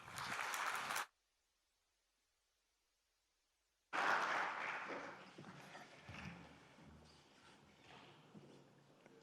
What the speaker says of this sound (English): A very warm applause for Alain de Muyser